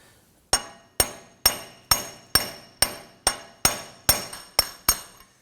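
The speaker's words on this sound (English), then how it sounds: "Now we're going to use a large brass punch on the inside." Eleven sharp metallic blows of a hammer on a large brass punch driving a Volvo XC90 axle shaft, struck at an even pace about twice a second, close and ringing, with no voices.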